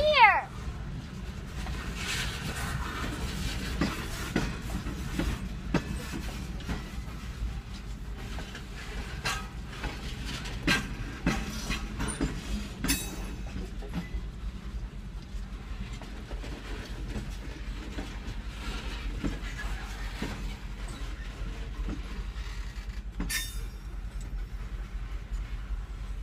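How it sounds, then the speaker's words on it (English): Train rolling past on rails close by, a steady low rumble with scattered clacks and squeaks throughout, faint voices at times in the background. "Whoa, this train? Is that cool?"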